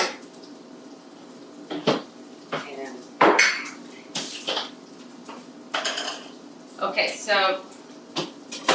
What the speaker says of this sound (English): Let's just clear a little workspace off